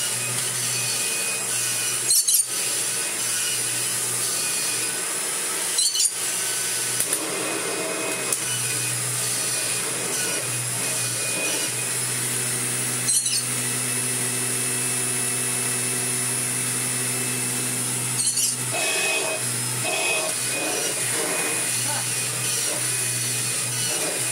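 A one-owner Kirby G4 upright vacuum cleaner runs continuously with a steady, loud motor whine over a low hum, broken by occasional brief knocks and clicks, with no voices.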